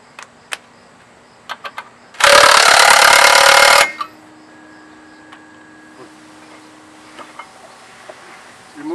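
Removing the secondary bolt on a primary clutch: a loud, sustained power-tool burst of about a second and a half, with sparse metallic clicks and taps around it in an otherwise quiet space.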